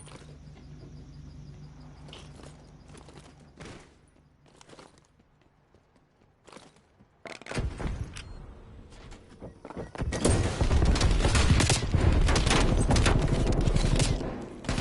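Gunfire in a Call of Duty League esports match, scattered shots and thuds early, then dense sustained automatic bursts and rattling fire dominating the second half, loud and close without commentary.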